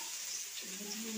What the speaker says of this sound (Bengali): আদা দিয়ে এইগুলো আমি একটু প্রথমে লাল লাল করে ভেজে নেব